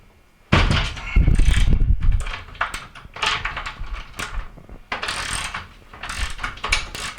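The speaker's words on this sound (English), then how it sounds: "we're going to go ahead and try to remove this roller" Prying a drum support roller out of an LG dryer gives a loud, close run of grinding, clattering metal and plastic scrapes in uneven bursts, starting abruptly and continuing with pauses.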